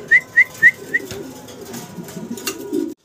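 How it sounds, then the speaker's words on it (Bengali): A male German Modena pigeon gives four short, clear coos in quick succession, close by, followed by faint rustling and low background noise. "জার্মান মডার্না সিঙ্গেল এক পিস আছে নর কবুতর"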